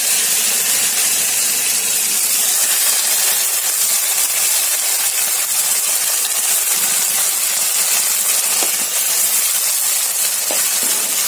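Vegetables sizzle steadily in a hot pan with ginger-garlic paste stirred in, a continuous loud hiss and crackle with occasional small clinks of a utensil, no talking.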